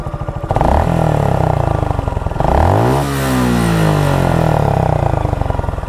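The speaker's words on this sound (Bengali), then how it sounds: "আপনাদেরকে জিক্সার বাইকের ইঞ্জিনের সাউন্ডটা শোনাই" A Suzuki Gixxer motorcycle engine revving close by, idling with a steady throb, then climbing through two strong throttle blips that rise and fall in pitch before settling back to a rough idle.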